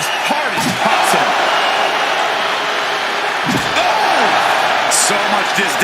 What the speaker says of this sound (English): slamming that bat down as hard as possible